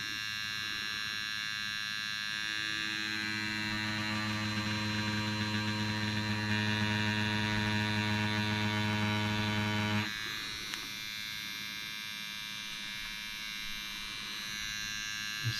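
A Dragonhawk Mast Fold rotary tattoo machine runs at a 3.9 mm stroke, giving a steady close electric buzz that cuts off abruptly and then leaves a quieter hum.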